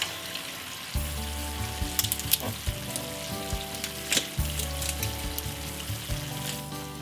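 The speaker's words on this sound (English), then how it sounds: "So now let's add the barbecue sauce." Chicken sizzles steadily in a hot pan as barbecue sauce goes in, a constant crackling fry with occasional louder pops and scrapes, close and moderately loud, with background music and no talking.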